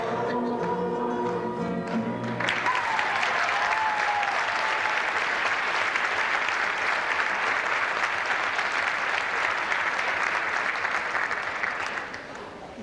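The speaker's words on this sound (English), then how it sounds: "Excellent clapping, guys." An audience at a 1996 team conference bursts into loud, sustained clapping that fills the room for about ten seconds before tapering off. Music plays faintly at the very start.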